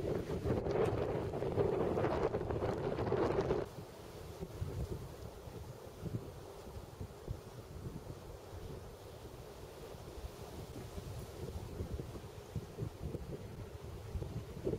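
Strong wind buffets the microphone outdoors on a hike, with heavy roaring gusts at first that ease into a steady, rumbling blow.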